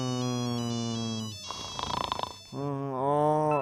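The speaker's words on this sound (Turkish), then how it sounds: "Telefon niye çalıyor ya?" A phone ringtone sounds in a Minecraft game, a steady melodic ring that breaks off briefly for a burst of noisy game sound, then resumes, loud and close.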